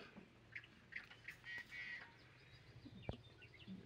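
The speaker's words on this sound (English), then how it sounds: "You hear the singing birds." Birds call from a lake nature reserve in Princeton, BC, with several short, faint squawks and chirps scattered over a quiet outdoor background.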